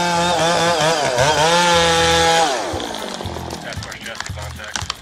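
A chainsaw felling an old tree roars loudly at high revs, its pitch falling as it bogs into the wood, then dropping to a rough idle; a voice talks over it.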